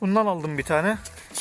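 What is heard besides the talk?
No everyday noise stands out behind the speech.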